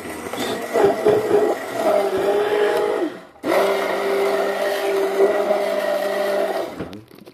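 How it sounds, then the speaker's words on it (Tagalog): A hand blender blending a thick juice drink whirs loudly and steadily, cuts out briefly, then starts up again and runs before stopping. "Lakas talaga ng hand blender mo."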